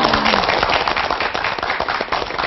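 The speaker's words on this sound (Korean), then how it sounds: "다시 한번 박수 좀 보내주십시오" A studio audience on a Korean morning TV show claps in a dense, sustained burst of applause that runs loud and steady throughout.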